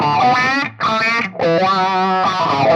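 Electric guitar through the wah effect of a Fender Tone Master Pro modeling unit, played loud and alone, with sustained distorted chords whose tone sweeps and shifts, two short gaps breaking the phrase.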